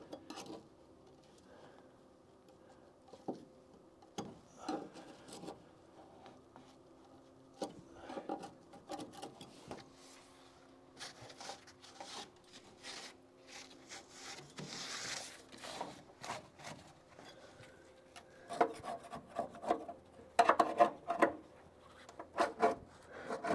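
Small chisel scraping thick seam sealer off a car body flange on a Charger restoration, irregular rasping and scraping strokes in bursts with pauses, close and moderately quiet, growing busier toward the end.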